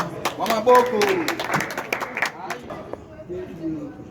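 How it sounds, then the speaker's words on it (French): Audience applause at a ceremony for committee members, a scattered run of claps that starts fairly strong and thins out, heard beneath someone speaking over a public address. "Tous vos applaudissements, bien sûr"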